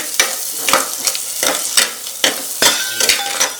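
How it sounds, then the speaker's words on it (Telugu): Turmeric fries in hot oil for a fish curry, loud and close, with a constant sizzle cut by brisk, regular scrapes of a spoon stirring the pan. "ఇలా వేగుతుంది కదా ఈ ఆయిల్లో ఇప్పుడు పసుపు వేసుకోవాలి కొద్దిగా పసుపు వేసాక ఒకసారి కలుపుకోవాలి"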